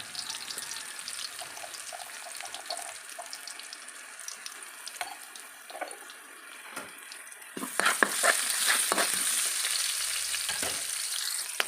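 Garlic and onion sauté in hot oil in a pan for a chicken dish, giving a steady close sizzle with light stirring clatter. The sizzle turns noticeably louder and busier during the last few seconds.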